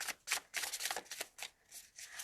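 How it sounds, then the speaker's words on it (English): Close, continuous papery shuffling of tarot cards in quick rhythmic bursts, fairly soft, with no talking. "We're going to shuffle it 3 times"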